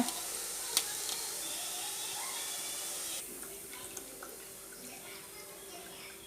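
Omapodi dough made from ration-shop lentil flour sizzles steadily in hot oil, a dense close hiss that eases slightly partway through, with a few faint clicks and no talking.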